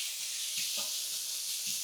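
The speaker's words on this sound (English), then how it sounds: "Love hearing that sizzle." Bacon sizzles on a Blackstone griddle, a steady close hiss of frying fat throughout with a few soft scrapes and a louder burst of crackle at the very end.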